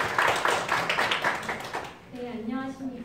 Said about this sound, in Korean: 큰 박수로 맞이해 주시면 좋겠습니다